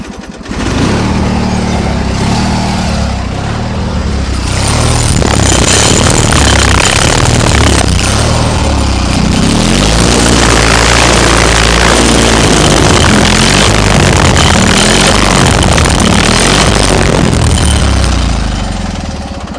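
A tractor engine cranks and catches, then runs loud and close with a steady, rough, chugging mechanical roar that holds for most of the stretch before easing slightly at the end.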